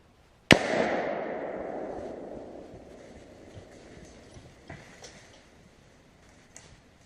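A single loud rifle shot rings out while deer hunting outdoors, a sharp crack with a long rolling echo that fades over several seconds. A few faint knocks and rustles follow.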